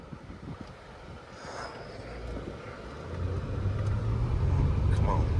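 A 2007 Lexus ES350 accelerating through the gears, its engine note building steadily louder with a low drone rising near the end as the transmission flares between third and fourth, under wind and cabin noise.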